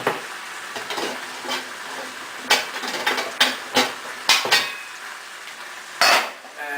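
Linguine tossed with clam sauce in a pan, a soft steady sizzle under repeated sharp metallic clicks and scrapes of utensils against the pan, near and clear with no talking.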